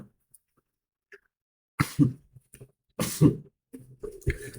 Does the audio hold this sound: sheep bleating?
no